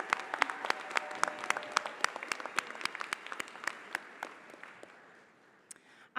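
Graduation ceremony audience at a university spring commencement applauds, a steady spread of many hands clapping in a large hall that gradually thins and fades out near the end.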